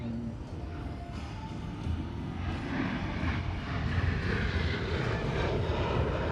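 Thunderbirds jets flying in tight diamond formation at the Fort Wayne air show, a loud continuous jet roar swelling as the formation approaches, with crowd noise underneath.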